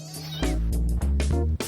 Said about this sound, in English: A few weeks later, both kittens have settled into their foster home with Tanya Baker.